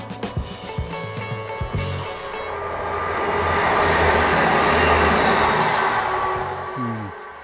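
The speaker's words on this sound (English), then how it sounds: "we can see there's a train coming." A train approaches and rumbles past Garforth railway station, swelling to a loud broadband roar with rhythmic clatter, then fading slightly near the end.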